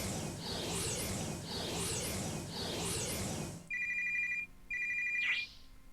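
A mobile phone ringtone rings in two clear repeated bursts with a short sweep, following a loud busy stretch of magical transformation effects from an animated story scene.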